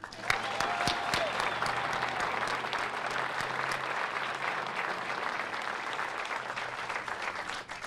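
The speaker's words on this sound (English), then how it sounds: "I invite everyone to join me in a round of applause for the second time" Sustained applause from a crowd honoring veterans at a bridge dedication ceremony, steady dense clapping throughout with a faint tonal whistle or feedback near the start.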